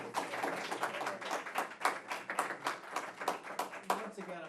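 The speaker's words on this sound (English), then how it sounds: "I'm going to kindly ask that, to the rules that we don't clap or applaud during public comment" Scattered audience clapping breaks out during public comment at a city commission meeting, a run of sharp hand claps over roughly four seconds, moderately loud, with a few voices murmuring underneath.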